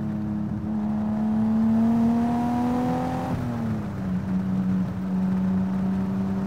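Nissan Skyline R34 sedan with an RB25 engine accelerating from inside the car, a steady droning engine tone rising in pitch, dropping briefly at a gear change, then holding a strong hum.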